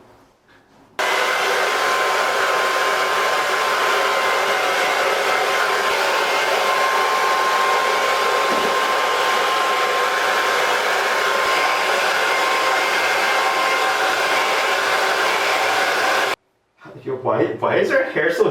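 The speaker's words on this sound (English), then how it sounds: "I blow dried it like no other." A hair dryer blowing on a person's hair during a home haircut, a steady loud whoosh running unbroken for about fifteen seconds before cutting off, followed by people talking.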